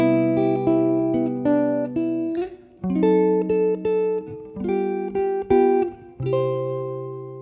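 Sustained chords played on a keyboard, moving through a short progression where a tense diminished passing chord leads into the resolution; clean and unaccompanied.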